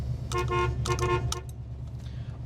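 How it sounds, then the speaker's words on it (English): A 1970 Ford Mustang Mach 1 horn honks in several short, loud blasts, each a separate toot with brief gaps, close by over a low steady idle-like hum. "we're in our 70 Mustang and we have a horn"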